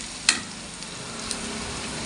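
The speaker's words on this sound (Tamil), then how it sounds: "கொஞ்சமாக சின்ன வெங்காயம் கொஞ்சம் நறுக்கி வச்சதை ஆட் பண்ணிக்கோங்க நல்லா ஃப்ரை பண்ணுங்கள்" A steady, close sizzle of chopped small onions (shallots) frying in hot oil for a broccoli stir-fry, with a brief clink of a utensil near the start.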